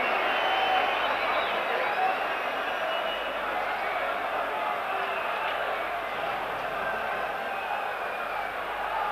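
Stadium crowd at a Club Brugge versus Rangers football match gives a steady wash of distant applause and murmuring, with a commentator talking over it.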